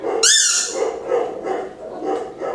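Dogs bark and yip excitedly in response to a squeaky toy, opening with a sharp high squeak-like yelp followed by several close barks and growly vocalizations.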